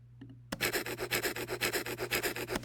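A dry, rhythmic shaker-like rustle made from unprocessed bubble wrap starts abruptly and pulses in a steady quick pattern, crisp and close, with a faint low hum underneath.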